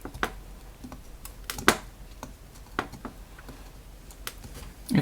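Tin snips cut into a GU10 LED light, giving a scattered series of sharp clicks and snaps, close and fairly quiet, with brief louder cracks among them.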